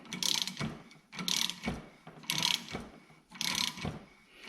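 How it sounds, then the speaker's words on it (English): A flaring tool being clamped down on a brake line, giving four repeated ratcheting, grinding bursts of tightening at an even rhythm, close up and fairly quiet. "So now we're going to clamp this down."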